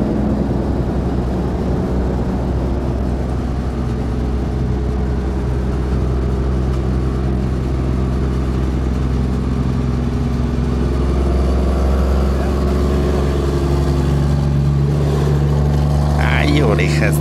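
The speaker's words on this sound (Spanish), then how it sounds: "Ya escucharon esos motores." Heavy vehicle engines drone on the Ixtlahuaca to Guadalajara highway, a loud, steady rumble with layered engine tones that climb in pitch toward the end, heard up close from inside or beside a moving vehicle.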